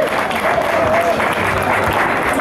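Steady crowd applause at an outdoor Cologne Pride 2015 event, dense and continuous throughout, with some voices and cheering mixed in beneath the clapping.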